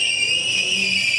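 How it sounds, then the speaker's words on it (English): A high, steady squeal from car brakes, sharp and continuous for about a second, loud and alone with no talking. "that's what my brakes sound like right there"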